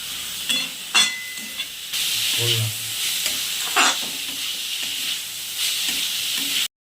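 Chicken momo filling seasoned with ground black pepper sizzles steadily in hot oil, with repeated scraping and stirring strokes of a spatula in the pan; no one speaks.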